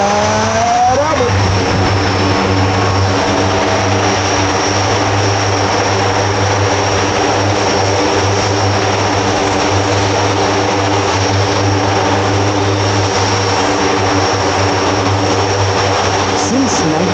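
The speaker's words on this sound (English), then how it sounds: "Above the cockpit, the Blue Angel C-130" Blue Angels C-130 "Fat Albert" propeller transport flying past at an air show, a steady loud droning engine roar with strong low hum that holds throughout, with crowd or announcer speech faintly mixed in.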